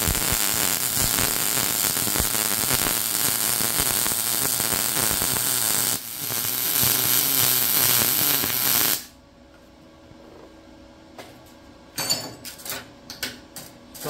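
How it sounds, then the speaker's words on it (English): A Yeswelder MIG205DS Pro MIG welder running on 14 gauge steel sheet, a steady loud crackling hiss that breaks off, restarts briefly, then gives way to quieter scattered crackles and ticks. "I did one weld, I stopped, and then I continued."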